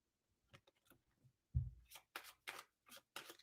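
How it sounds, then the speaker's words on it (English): Tarot cards being shuffled vigorously by hand, giving short papery riffles and flicks, faint at first and then a louder thump followed by several brisk bursts close to the listener. "I'm shuffling the hell out these cards"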